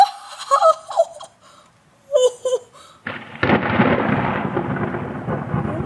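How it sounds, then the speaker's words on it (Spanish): Thunder during a storm in Valencia: after a few quiet seconds with distant sounds, a loud broad rumble breaks in and rolls on continuously, echoing and sustained to the end. "¿Será que un trueno retumba y vuelve varias veces?"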